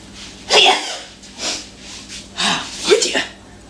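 A single loud sneeze bursts out in a home kitchen during French toast cooking, followed by a few softer breathy snorts and a second sharp sneeze-like burst.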